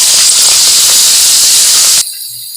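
Boiled chickpeas that were fried earlier go into a hot pan, giving a loud, steady hiss of sizzling that runs for about two seconds and then drops off sharply to a quiet simmer.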